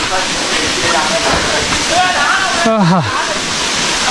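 The single cascade of Kuttu Patti Falls near Natham in Dindigul, a steady, close, loud rush of falling water while people talk nearby.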